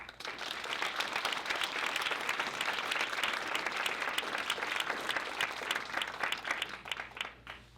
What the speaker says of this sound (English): y'all please give a loud hand clap for Mr. Jihad Al-Dumami